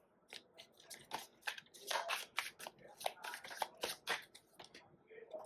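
A deck of tarot cards is shuffled and drawn by hand, producing rapid papery riffles and flicks in uneven bursts, close and moderately quiet, with no speech over them.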